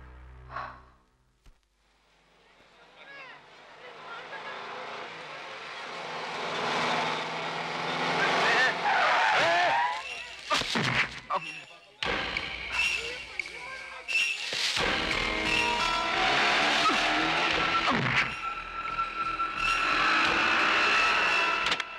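Car engine revving and a car driving in a 1996 Tamil movie scene, rising from quiet into a loud roaring rush with sharp bursts and impacts, while voices talk at points.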